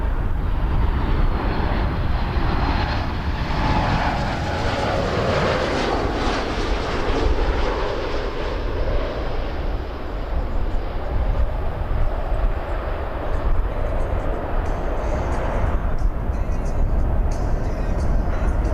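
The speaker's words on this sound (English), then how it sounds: "we got a MAX 8 coming in, WestJet 714 from Vancouver" A WestJet Boeing 737 MAX 8, flight 714 from Vancouver, comes in to land at Toronto Pearson, its jet engines a loud, steady, broadband roar that fills the whole stretch without letting up.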